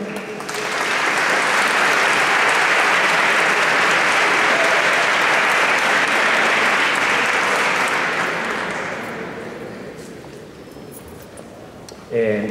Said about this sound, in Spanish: Presentamos y recibamos con un fuerte aplauso